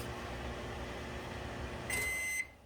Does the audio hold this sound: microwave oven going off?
yes